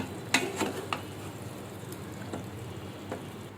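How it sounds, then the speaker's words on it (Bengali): Chicken meat braising in a covered pot for a Bengali chicken curry, giving a soft, steady sizzle and bubble with a few sharper clicks near the start, heard close and alone. "মাংসটা কষানো হচ্ছে।"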